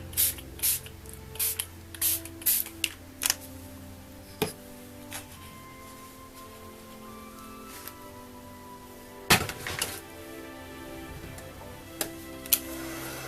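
Several short hissing sprays of homemade light-brown sparkly mist from a Glimmer Mist bottle, clustered in quick bursts early on, with more spritzes later and faint tapping between.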